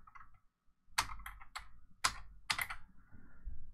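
Fingers type on a computer keyboard, a few quiet scattered keystrokes and then several bursts of close, crisp clicks in an uneven rhythm, with no voices.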